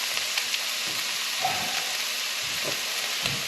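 Pork and kimchi fried rice sizzles steadily in a hot pan, a loud continuous frying hiss broken by soft scrapes and shuffles of stirring.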